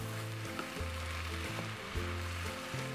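Vegan cauliflower fried rice with tempeh, coriander and salt sizzling in a hot pan, a steady close hiss broken by repeated scraping stir strokes at a regular pace, with no speech.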